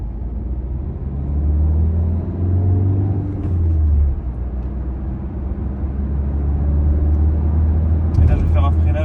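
An Opel Crosland X car drives at a dealership, its engine droning in a low steady rumble that rises and falls, with a brief clatter near the end as it slows; someone talks over it throughout.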